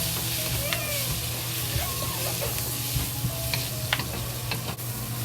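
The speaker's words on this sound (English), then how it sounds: "So now we add the eggs into it, scrambled eggs into it." Scrambled eggs sizzle and crackle steadily in a pan with collard greens while a utensil stirs and scrapes, giving close, continuous frying noise with small clicks and no talking.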